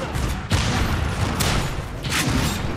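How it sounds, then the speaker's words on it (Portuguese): Grenade launcher fire in the online shooter Tribes 3: Rivals, with a few sharp blasts, one near the half-second mark and another near 1.4 seconds, over a dense, steady wash of game noise. "O lançador de granada já foi ok."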